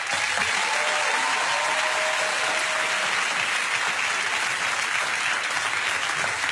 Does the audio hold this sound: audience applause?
yes